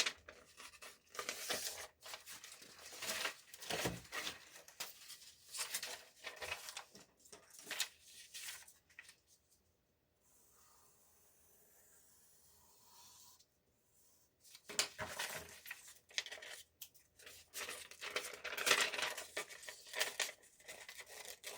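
Scissors snip and rustle through paper while a fish mask craft is being made, close and quiet, in bursts of cutting with a near-silent pause midway.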